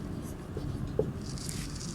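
A pen or chalk writing out an answer in a classroom, soft scratchy strokes that stay faint and continuous under low background noise, with one small knock partway through.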